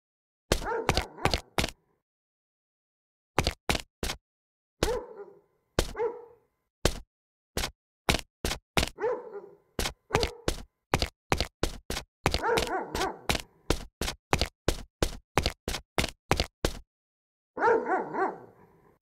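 An angry dog in the video game Dark Years barks in loud, rapid bursts of sharp single barks, broken by short pauses and occasional whimpering groans, close and alone.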